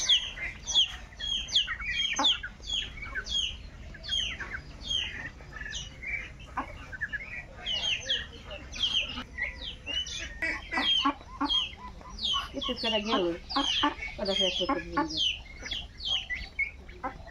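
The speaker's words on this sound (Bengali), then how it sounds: "এই তো এখানে সবগুলো চীনা হাঁস" A flock of Chinese ducks and other fowl chatter and call repeatedly, overlapping squawks and clucks at moderate distance, with no talking.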